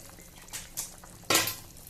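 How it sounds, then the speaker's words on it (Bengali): Fish curry gravy bubbling in a pan, with a soft simmering hiss broken by a few short bursts of bubbling, the loudest near the end, and no voices. "ঝোল ফুটে উঠেছে"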